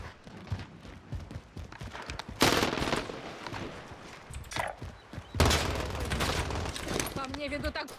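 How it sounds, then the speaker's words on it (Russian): In Call of Duty: Warzone, an auto turret fires at the player in two loud, sustained bursts of rapid gunfire, with quieter game noise between them and someone talking over it. "По мне ведут так. Ебучую турель, блядь, поставили."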